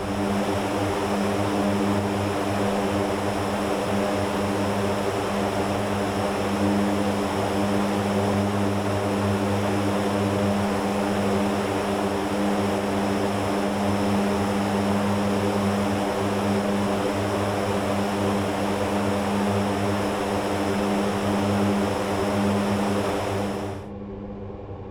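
C-130J propeller aircraft climbing after takeoff in the DCS World flight simulator over Afghanistan, a loud, continuous, even droning hum of the engines and props with no talk, cutting off at the very end.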